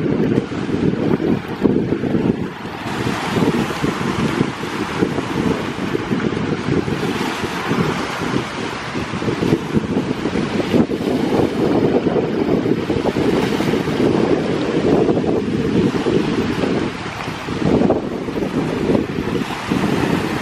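Strong wind buffets the microphone beside a lake dock, a continuous loud roar with gusty surges and rumbling lows, water lapping faintly beneath it and no voices.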